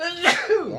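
One short, sharp sneeze bursts out close to the microphone, with a voice speaking briefly around it.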